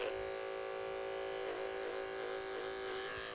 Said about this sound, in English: now we're going to do it all clipper over comb